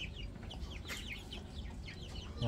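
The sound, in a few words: chicks cheeping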